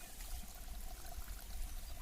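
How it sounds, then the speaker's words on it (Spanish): A small spring-fed mountain stream trickles steadily downhill in the countryside, a soft continuous wash of water with no voices, moderately close and even throughout. "hay otro arroyito, pequeño manantial que hace que baje el agua acá"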